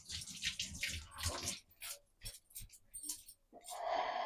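Hands are rinsed under a running kitchen tap: quiet, uneven splashing and trickling water comes in short bursts, close by, and ends with a steadier gush of flow.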